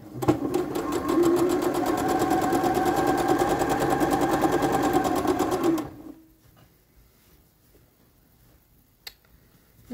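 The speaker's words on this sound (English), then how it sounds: "I'm just sewing my last seam here on this dress" A sewing machine stitches a French seam on a dress, running in a steady, fast, close mechanical chatter for about six seconds and then stopping, leaving a quiet room with a faint click.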